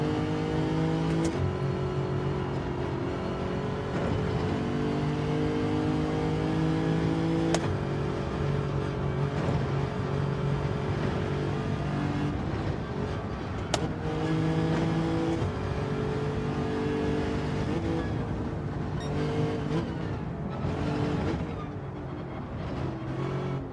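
Race cars in Gran Turismo 7 drone steadily through a 12-lap lobby race, engines humming and rising and falling in pitch, with occasional shifts, continuous and moderately loud.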